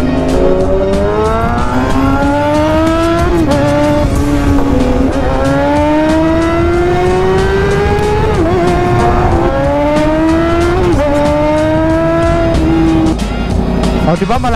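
A Yamaha R1M sport motorcycle engine revs loud and close while riding, rising and falling through repeated gear changes with a steady high whine, alone without voices.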